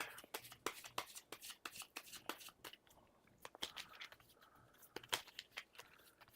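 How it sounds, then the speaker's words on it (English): A deck of adventure cards for the board game Mythwind is shuffled at a table in quick, crisp riffling bursts, quiet and close. "this gets shuffled back into the adventure deck"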